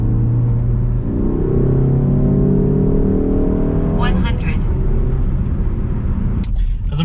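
A 2016 Ford Focus ST hot hatch accelerates hard during a 0 to 100 run, its engine climbing through the revs, dropping on a gear change and pulling again, loud and close from inside the car with brief talk over it.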